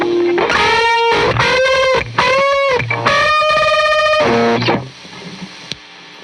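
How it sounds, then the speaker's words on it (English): Guitar notes played through a spitty, buzzy fuzz from a MASON Supro-style preamp pedal by Preston Pedals, several sustained distorted chords in a short riff before the sound cuts off and fades. "It's like a spitty, like fuzz."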